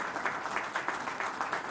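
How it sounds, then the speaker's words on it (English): Audience applause at a launch event at GMR airport, a soft, thin patter of clapping from a modest crowd, steady and rhythmic, fairly faint and distant. "Can we have a round of applause, ladies and gentlemen?"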